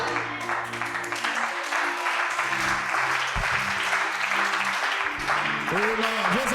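Church congregation applauding and cheering during a sermon, a dense wash of clapping and voices over sustained organ or keyboard tones, with shouted cheers rising near the end.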